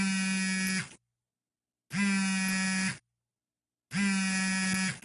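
Three long buzzing electronic rings, each about a second, separated by short silences: a phone ringing in a VR game.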